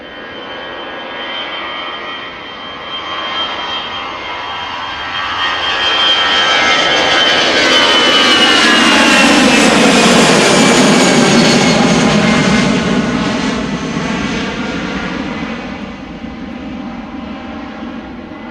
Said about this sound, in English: EasyJet going to Berlin, flight 25282, Airbus A319.